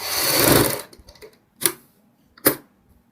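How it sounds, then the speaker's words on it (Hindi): A sewing machine runs a burst of stitching along a kurti side slit seam, a close, quick mechanical whir that stops, followed by two sharp clicks of the mechanism. "सेम दबाव और सेम मार्जिन के साथ दूसरे चाक में भी हम इसी तरीके से सिलाई लगाएंगे"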